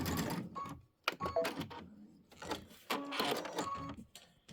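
A sewing machine stitches a Christmas quilt in rapid mechanical bursts, running in several short, loud runs separated by brief pauses, close by with no talk.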